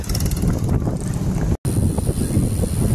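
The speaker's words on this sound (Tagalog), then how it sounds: "Lakas ng hangin" Strong wind roars across the microphone in a loud, continuous rush, with one very brief dropout midway.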